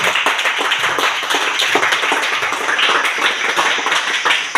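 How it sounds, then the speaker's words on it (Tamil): An audience at a yoga awareness talk claps together, a dense, continuous burst of many hands filling the room at steady loudness, with a faint voice or two under the clapping. "ஜோராக கைத்தட்டுங்க"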